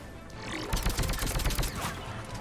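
Sniper rifle fire and combat noise in Mass Effect 3 come as a burst of sharp, dense impacts over about a second, loud and close, set against a steady game backdrop.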